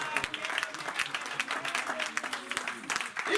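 Church congregation applauding, a sustained patter of many hands clapping at moderate volume, with some voices mixed in.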